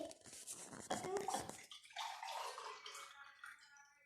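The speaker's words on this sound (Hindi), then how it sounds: "ये हमने डाल दिया 4 गिलास पानी" Water poured into a pot of porridge while making talbina, a splashing, gurgling pour that starts strongly and trails off into softer sloshing, close and fairly quiet.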